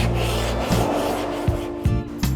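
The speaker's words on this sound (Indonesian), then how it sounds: "kita haluskan sudutnya menggunakan amplas untuk memudahkan proses selanjutnya" Sandpaper smoothing the corners of an HPL-laminated table made from bent plywood: close, loud rasping strokes in a steady back-and-forth rhythm, with a few sharper scrapes where the paper changes direction.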